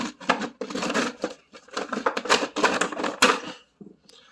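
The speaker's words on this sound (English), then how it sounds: "First, we can remove the plastic cover, beauty cover," A plastic engine beauty cover comes off a Corvette C5 LS1 with a close, quiet series of clicks, scrapes and rattles in an uneven rhythm that fades to a few soft taps.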